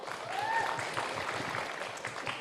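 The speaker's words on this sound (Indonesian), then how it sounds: "Kita berikan dulu tepuk tangan yang meriah untuk ke-6 regu kita" Audience applause for six teams at a televised school Qur'an quiz competition, a steady wash of clapping that holds evenly through the whole stretch without a break.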